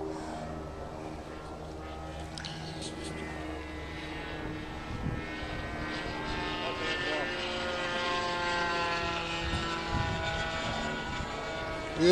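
A 60 size radio-controlled model airplane with an OS FX .61 glow engine buzzes overhead, its high propeller whine rising and falling as it passes at a distance, steady and moderately loud throughout.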